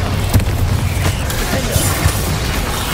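Bombarda spell explosion in Hogwarts Legacy, a loud deep booming rumble with a few thumps and crackling debris, steady and close, no speech.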